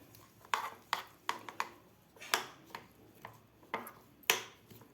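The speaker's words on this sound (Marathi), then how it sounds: "आता आपल्याला हे व्यवस्थित मिश्रण फेटून घ्यायचं आहे अंड्याचं." Egg mixture with cumin and salt beaten in a bowl makes sharp, uneven clinks of a utensil striking the rim, about a dozen distinct taps spaced irregularly, close and moderately loud with no speech.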